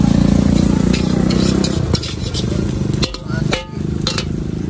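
Snails (bekicot) fry in oil at a night street food stall in a steady loud sizzle that runs throughout, broken by a few clattering stirs, with traffic-like rumble underneath.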